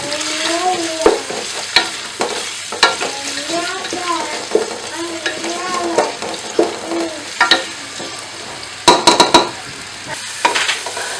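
Onions frying for beef pulao, stirred in a pot, with a continuous close sizzle broken by repeated scraping and knocking of a spoon, a quick burst of sharp clatters near the end.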